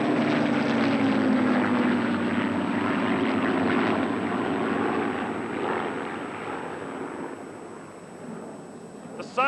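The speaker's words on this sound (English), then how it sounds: "the sound of the Merlin engines of the Spitfire" Spitfires with Merlin piston engines drone overhead at an air display, a strong rumbling roar that slowly fades as the aircraft move away, ending with a brief sharp sound.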